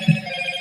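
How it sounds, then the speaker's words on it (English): A telephone ringing nearby, a brief steady electronic ring tone that is fairly loud and clear with no talk over it. "sorry about the phone, but that's just how it is."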